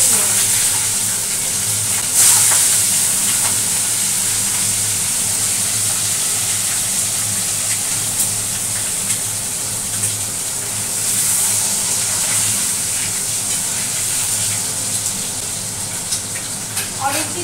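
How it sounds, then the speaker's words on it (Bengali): Eggs frying in hot oil in a home kitchen, a continuous close sizzle with occasional sharp pops and spatters, lasting throughout. "চলো ডিমগুলো আগে ভেজে নিই"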